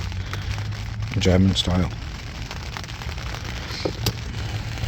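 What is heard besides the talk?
rain falling at a carp fishing lake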